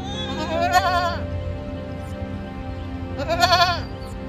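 Goats bleat twice, each call a wavering, nasal cry of about half a second, clear and fairly close over a low steady background hum.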